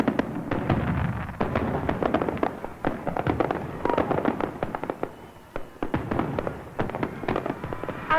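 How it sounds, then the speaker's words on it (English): Fireworks bursting in rapid, irregular volleys, sharp pops and booms overlapping continuously with a loud, crackling density throughout. "There were fireworks every night"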